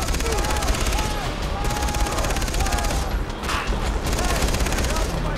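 Mounted turret machine gun in Far Cry 3 firing in dense, rapid continuous bursts, loud and close, with brief gaps near the middle and a voice talking over the gunfire.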